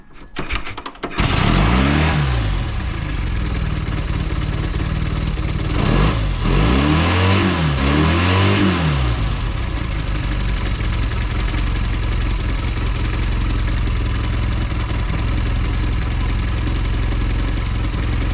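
A Velocette motorcycle engine cranks and fires, blips its revs a few times, then settles into a steady, close, thumping idle around 1300 RPM.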